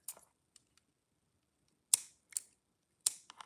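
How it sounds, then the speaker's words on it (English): Scissors snip through the end of a plastic kandi-bead stress ball, giving a few sharp, close cuts spread across a quiet stretch, two of them doubled. "I'm just going to cut off the end"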